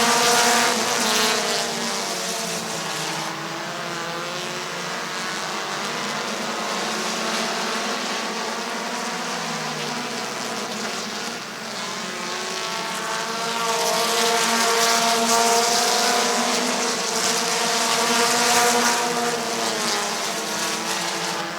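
Race cars circling the oval at Midvale Speedway, their engines droning loud and steady through the whole stretch, swelling and fading a little as the pack passes, with no talk over it.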